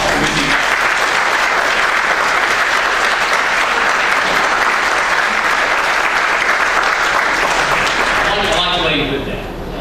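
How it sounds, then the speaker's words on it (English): A big thunderous round of applause from an evening church gathering, dense sustained clapping from a large crowd filling the space at full volume for nearly ten seconds before starting to fade. "a big thunderous round of applause for Ruthie"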